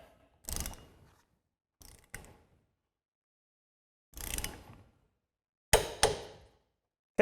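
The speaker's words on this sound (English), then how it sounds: "we'll have just a backup wrench here to assist with torquing it" A wrench works a bolt on the head assembly of a Blue Ox TrackPro Airstream hitch, giving four or five short, sharp ratcheting bursts spaced apart, with quiet gaps between them.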